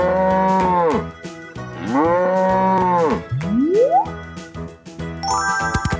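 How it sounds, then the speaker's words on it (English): A cartoon dairy cow in a 3D animal slide video game gives two long, loud moos, followed by a rising boing-like effect and bright jingling chimes. "Cow."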